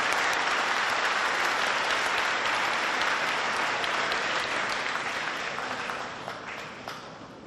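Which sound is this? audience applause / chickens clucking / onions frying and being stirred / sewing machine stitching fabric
audience applause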